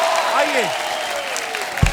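A studio audience on The Kapil Sharma Show applauds four young singers, among them an Indian Idol winner, as they are welcomed. The steady clapping runs under a host's voice, with a brief swooping tonal effect near the start.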